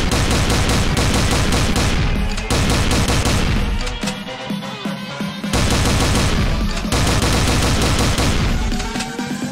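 Rapid bursts of video game gunfire fill the scene, loud and dense, with repeated volleys and booming shots broken by a brief lull midway before the firing resumes.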